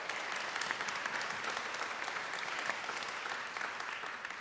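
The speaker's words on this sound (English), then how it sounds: "we can give those a round of applause." An audience at a Yom HaTzedek gathering applauds, dense steady clapping filling the room at a moderate level from start to end.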